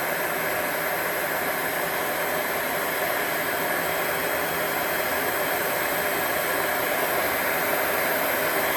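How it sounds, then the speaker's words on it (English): A heat gun blows a steady, loud, even roar of hot air onto a spinner bait blade held in pliers, holding unchanged for the whole stretch with no voices. "Hit it again with the heat gun"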